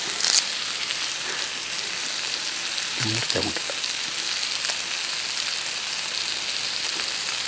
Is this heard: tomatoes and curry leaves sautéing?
yes